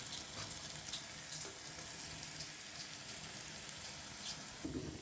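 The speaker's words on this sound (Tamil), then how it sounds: "நாம் முந்திரியை ஃப்ரை பண்ணி எடுத்துக்கலாம்." Cashews and almonds frying in hot oil for wheat boondi laddu give a steady, fine crackling sizzle. It is fairly quiet and continuous, with a few brighter pops and no voices.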